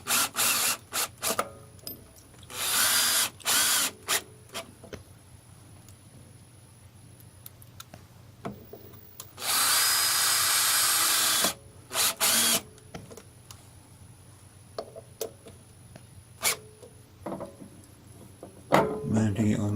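A power drill driving screws to fix a wood blank onto a lathe faceplate, loud whirring bursts of a few seconds each, one longer run in the middle, separated by quieter handling clicks and occasional speech.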